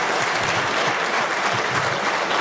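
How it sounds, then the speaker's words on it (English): Audience at a blogger meet in Bangalore giving a round of applause, dense and even clapping filling the room continuously at moderate loudness. "Well, I think they deserve a big round of applause"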